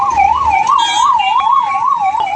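An ambulance siren wails close by in city traffic, rising and falling in a steady repeating cycle, loud over the street noise.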